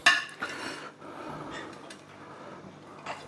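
A spoon clinks and scrapes against a pot and dish while mutton rosh is served out, with a few sharp metallic knocks among softer scraping.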